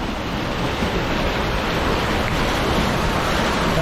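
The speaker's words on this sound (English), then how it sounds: "How fast the water's coming." Water rushes steadily in at the edge of a lake, a loud continuous broadband wash with wind buffeting the microphone and no voices.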